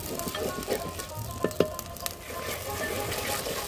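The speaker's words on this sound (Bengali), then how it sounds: "2 টেবিল চামচ রসুন বাটা, 2 টেবিল চামচ আদা বাটা। এটাকে আমি 2 মিনিট কষাবো।" Garlic and ginger paste fries in a clay pot over a clay stove, giving a soft continuous sizzle broken by a few sharper scrapes and clinks of stirring.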